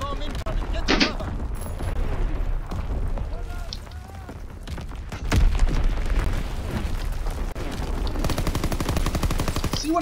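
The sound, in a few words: artillery bombardment and gunfire in video game Call of Duty WW2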